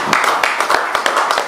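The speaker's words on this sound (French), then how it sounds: "Et ça mérite des applaudissements bien entendu." Applause breaks out at a press conference ahead of a concert, a dense burst of hand claps with sharp individual slaps standing out, loud and close throughout.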